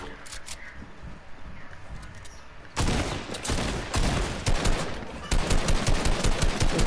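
Rapid automatic gunfire in a shooter video game, loud, dense bursts of shots starting abruptly after a quieter stretch and continuing in a fast rhythmic stream, with a voice talking.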